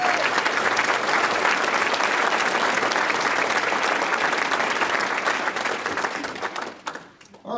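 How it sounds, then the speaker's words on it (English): A banquet crowd applauds Hall of Fame inductees, a loud, dense roll of clapping held for several seconds that thins and dies away at the end. "How about a big round of applause to all of our inductees in the Hall of Fame tonight."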